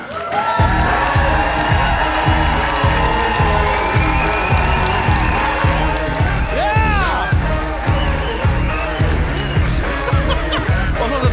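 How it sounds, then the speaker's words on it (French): A comedy one-man show crowd cheers and applauds loudly and continuously, with scattered whoops and a rhythmic thumping beat running underneath the clapping. "Faites un maximum de bruit pour Ben Lafayette."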